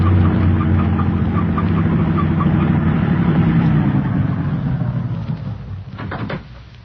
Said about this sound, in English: The truck has no headlights on it, but it's going to pass right by us.